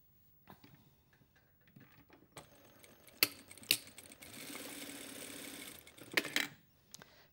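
A sewing machine back-tacks through a seam on a pointed pocket flap, quiet and close, with a few sharp clicks and a steady mechanical whir building in the middle before trailing off.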